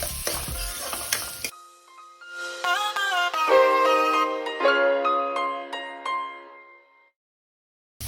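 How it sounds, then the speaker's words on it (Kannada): Chopped onion for egg kheema is frying in a pan with a loud, crackling sizzle for a second or so, then it cuts off and bright melodic chime-like tones take over and slowly fade. "ಆನಿಯನ್ ಫಸ್ಟ್ ಸ್ವಲ್ಪ ಗೋಲ್ಡನ್ ಕಲರ್ ಬರುವವರೆಗೂ ಫ್ರೈ ಮಾಡ್ಕೊಳ್ಳಿ"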